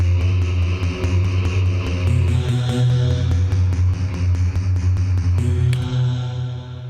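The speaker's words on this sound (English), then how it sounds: "Here we came up with a synth melody that follows the guitars, and it currently sounds like this." A granular synth melody shadows metal guitars through a breakdown, with rhythmic plucked notes stepping over a heavy sustained low end, loud and continuous, with a shift near the end before fading slightly.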